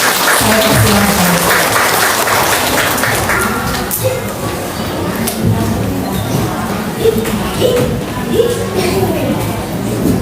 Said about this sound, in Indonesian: Boleh Ibu Bapak tepuk tangan.